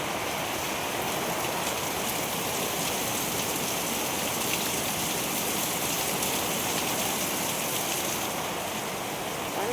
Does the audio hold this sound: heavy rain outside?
yes